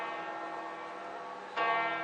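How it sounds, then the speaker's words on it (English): Bells ring in a sustained, resonant wash of overlapping tones, with a fresh strike swelling louder partway through. "Oh, I like the bells."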